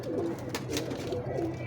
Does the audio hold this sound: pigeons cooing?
yes